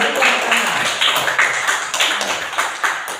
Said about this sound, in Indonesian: Kita berikan dulu tepuk tangan kepada kelompok 3 yang memberikan pertanyaan.